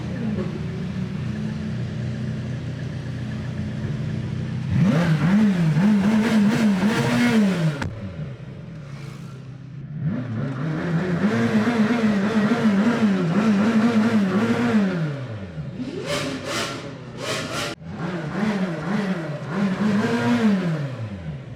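Rimac Nevera hypercar at an owners' gathering on the Croatian Mediterranean coast, accelerating hard in repeated rising surges that swell loud as it passes close, then fade between bursts.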